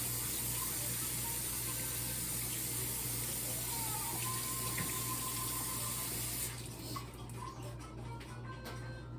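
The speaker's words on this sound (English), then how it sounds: "Lots of hand washing going on with baking." A kitchen tap runs steadily while hands are washed beneath it during baking, a constant close hiss of water that thins and splashes more unevenly toward the end.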